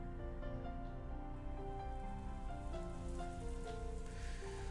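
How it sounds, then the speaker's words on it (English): Steady rain from the Umineko visual novel game patters on a surface, continuous and soft, with a sustained musical drone layered underneath and no voices. "she was wrapped up in the soft sound of the rain"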